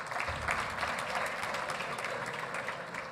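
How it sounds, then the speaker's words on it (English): At a black-tie gala dinner and awards evening, the audience applauds, a steady, fairly soft patter of many hands that carries on evenly without talk. "A round of applause for the ladies as well."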